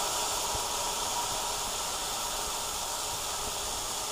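Vermouth poured into a hot pan after frying fish makes a steady, even hiss that holds unbroken for a few seconds with no voices.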